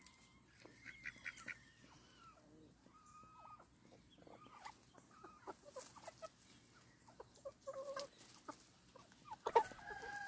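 Chickens on a homestead, with scattered clucks and short calls at moderate distance over a quiet outdoor background, a few sharper calls near the end.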